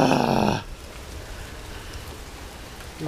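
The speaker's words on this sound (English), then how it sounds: "It's raining." Rain falls with a steady soft hiss after a loud, brief tonal sound cuts off at the start, with a faint thump at the very end.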